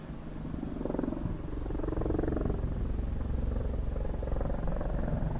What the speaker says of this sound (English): There's an Apache helicopter over there swinging back and forth through the hills.